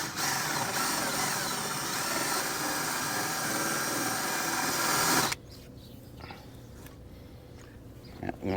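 Power drill boring a pilot hole during a Starlink Quick Conn install, a loud steady whine running for about five seconds before cutting off, followed by quiet handling noises.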